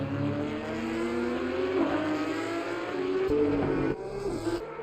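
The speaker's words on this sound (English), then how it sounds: "Car screaming down the start-finish straight" A Porsche Supercup race car in Assetto Corsa Competizione screams down the start-finish straight at the Nürburgring, its loud engine note climbing steadily through the gears with brief dips at upshifts.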